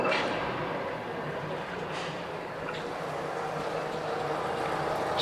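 2016 Mercury 40hp four-stroke outboard boat motor with a 20-inch shaft and remote controls running, giving a steady, moderately loud broadband engine drone with a few brief clicks, and no talking.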